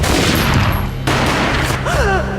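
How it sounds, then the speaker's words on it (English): A gunshot booms in the video game Max Payne, a sharp loud blast with a burst of noise that cuts off abruptly, followed by a brief cry. "A gunshot boomed and she fell down in slow motion."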